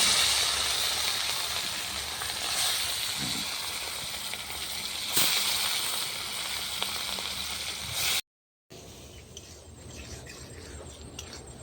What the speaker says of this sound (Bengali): তেলটা গরম হয়ে গেছে, একদিকে মাছগুলো ছেড়ে দেবো।